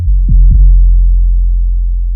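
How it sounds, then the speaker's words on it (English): A deep, sustained 808 bass note rumbles loudly, with two quick pitch-dipping hits near the start before it settles into a long, steady low hum. "We've got quite a nice rumbly 808."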